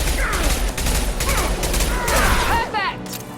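Rapid bursts of gunfire fill a Mass Effect 2 game battle, loud repeated shots crackling almost continuously with whooshing effects near the end.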